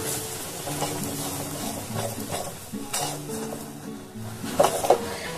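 Gram flour fries in hot oil over a low flame for sweet barfi laddu, giving a soft, close sizzle under stirring scrapes and occasional utensil clinks.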